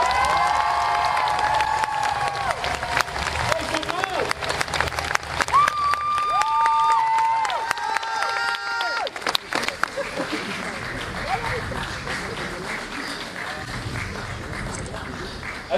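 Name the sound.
studio audience applauding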